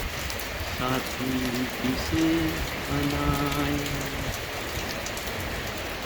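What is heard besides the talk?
heavy rain falling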